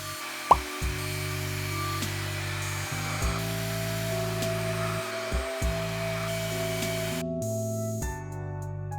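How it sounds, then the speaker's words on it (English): A hair dryer blows steadily close by while hair is blow-dried, its whine holding a constant hum that shifts in pitch as the speed setting changes, with occasional clicks and brief cut-outs. "we took about 45 minutes to blow dry my hair"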